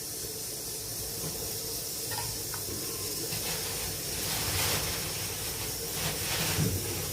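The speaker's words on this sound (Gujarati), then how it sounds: "હું હવે એને વરાળમાં બાફા મૂકી દઈશ" A steady hiss of steam rises from a pot of steaming bitter gourd peel muthia dumplings, continuous and fairly soft, with faint rattling and a few quiet knocks in the background.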